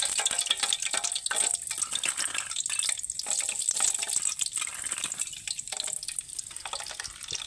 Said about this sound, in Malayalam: ചൂടായ നെയ്യിലേക്ക് അണ്ടിപ്പരിപ്പ് വറുത്ത് വരാൻ വേണ്ടി ഇടുകയാണ്.